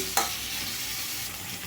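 Radish pieces fry in hot oil with a continuous close hiss, opening with a single sharp clink of a spoon against the pan.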